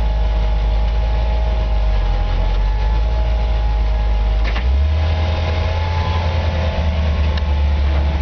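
A 1956 Chevy pickup truck idles steadily with a low, continuous rumble, a deep, even exhaust drone and a faint higher mechanical hum throughout.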